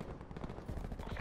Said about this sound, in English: I'm being shot at. I have a sniper shooting at me.